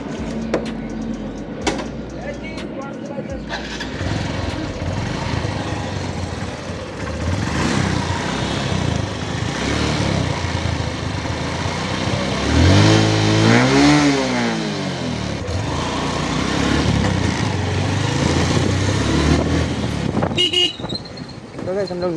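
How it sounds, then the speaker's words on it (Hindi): Motorcycle heading out on a ride on a cold-weather road, engine running steadily with a rising rev sweep midway, a horn toot, and someone talking over the engine noise. "अभी चलते हैं बाहर, बाइक को राइड करते हैं"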